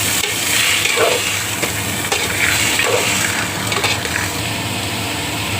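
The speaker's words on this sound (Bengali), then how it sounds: "আর দিয়ে দিচ্ছি আমার ভিজিয়ে রাখা মটরগুলো। এগুলো পেঁয়াজের সাথে একটু কষিয়ে নেব।" Soaked peas sautéing with onions in a pan make a close, steady sizzle mixed with scraping stirring strokes and occasional clinks of a utensil against the pan.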